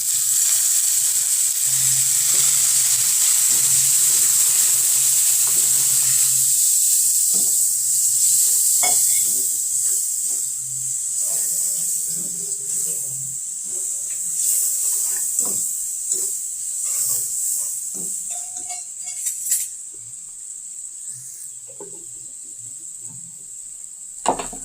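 Spices and a splash of water sizzle steadily in a hot pan for a ridge gourd dish, a bright continuous hiss with occasional stirring clinks, loudest at first and gradually easing.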